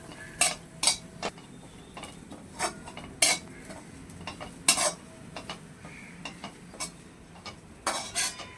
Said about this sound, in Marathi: मस्त असं खरपूस भाजून घेऊया कीस. तूप टाकले, तुपामध्ये भाजायचं आहे.